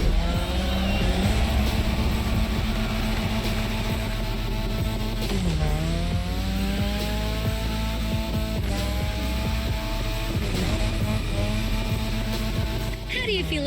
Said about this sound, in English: How do you feel about my modded RX-7?